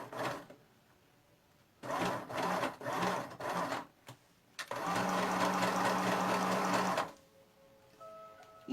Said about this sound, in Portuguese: E agora eu sigo costurando